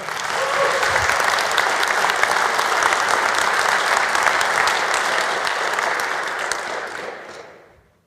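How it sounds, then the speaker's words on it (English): Sustained audience applause at a PowerShell conference session, PSConfEU 2024, a dense steady wash of many hands clapping that holds strong for about seven seconds before fading out. "give a hands of applause to these people here"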